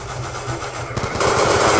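Rapid automatic FAL rifle fire in a video game, a dense rattling burst that steps up louder and fuller partway through, continuing without pause.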